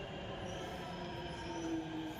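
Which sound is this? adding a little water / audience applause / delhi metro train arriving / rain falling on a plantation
delhi metro train arriving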